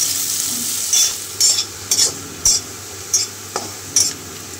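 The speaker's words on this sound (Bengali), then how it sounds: "দিয়ে দিলাম, পেঁয়াজটাকে ভাজা ভাজা করে নেব।" Onions frying in oil with whole cumin, cardamom, cinnamon and cloves: a steady close hiss of sizzling, broken by short scraping stirs roughly every second, with no voices.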